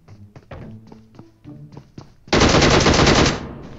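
Automatic gunfire in the mobile battle royale game PUBG Mobile, a sustained loud burst after a run of lighter thuds and clicks.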